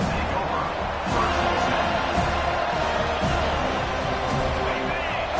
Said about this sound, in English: This crowd, full throat, splitting the eardrums